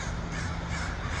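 Crows caw outdoors over a steady, dense background wash, with no talking.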